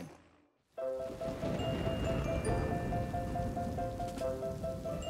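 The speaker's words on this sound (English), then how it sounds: "Wow, it's really raining out there, isn't it?" Heavy rain pours down outside in a steady, dense hiss after a brief quiet start, with drops pattering on surfaces and a faint tonal hum underneath; no one speaks.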